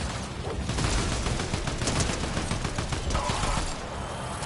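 Rapid, loud bursts of gunfire fill the Fortnite match almost without pause, dense overlapping shots that ease slightly toward the end.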